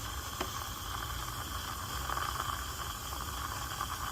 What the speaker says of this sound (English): I'll say the steaming is pretty gentle.